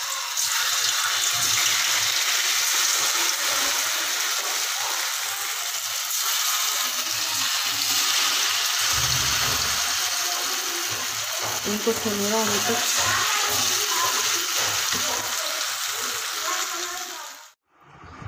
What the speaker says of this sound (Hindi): हमारा तेल अच्छे से गर्म हो गया है, अब हम इसमें छोटे छोटे पोहे डालेंगे।